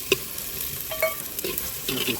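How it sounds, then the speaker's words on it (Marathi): Ginger-garlic, cumin and masala paste sautés in a pan for a village-style chicken methi, a soft steady sizzle with occasional scrapes and clinks of a stirring spoon, no talk. "छानपैकी आपलं हे छान असं परतून झालेलं आहे, गोल्डन ब्राऊन झालेलं आहे"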